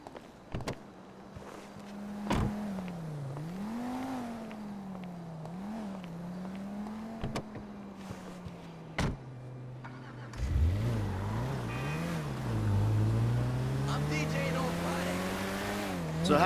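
A car in GTA 5 hums along at steady speed, its engine pitch rising and falling with the road, then revs harder and accelerates near the end, with characters talking over the drive.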